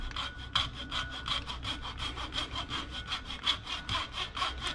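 A hand saw cuts notches into a suspension bushing clamped in a small vise during a Cobra Daytona build, steady back-and-forth strokes about three per second, close and clear with no talking.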